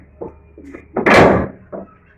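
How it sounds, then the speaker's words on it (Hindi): A house door is handled in a dark home during a power cut: a few knocks and thuds, then a loud rattling bang as it swings open, followed by a softer thump. "दरवाज़ा में खोल रही है।"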